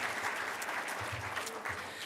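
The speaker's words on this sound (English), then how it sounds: "Would everybody give Jeff a round of applause?" Applause from an audience at a Mulerider Athletics Hall of Fame 2024 ceremony, honoring Jeff Harrington: a steady wash of many hands clapping together, dense and even for about two seconds with no talk.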